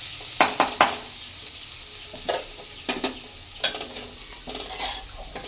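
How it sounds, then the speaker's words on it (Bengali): Half-boiled mutton goes into a pan of fried onion and spice mix for a mutton curry with potatoes, giving a steady sizzle with clusters of wet stirring and scraping knocks against the pan, heard close and with no talking. "এবার আমি যে মাটনটা কুকারে দিয়ে হাফ বয়েল করে নিয়েছিলাম ওইটা এবার এর মধ্যে দিয়ে দেবো"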